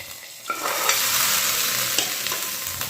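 A fried tempering mixture is stirred into a beetroot and dal curry in a pan, giving a loud, close, continuous sizzle with a few sharp scraping stirs and no voices.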